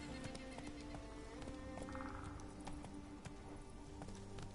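Hoofbeats of a galloping horse in The Witcher 3 video game, a fast steady clip-clop rhythm heard close over faint ambient background.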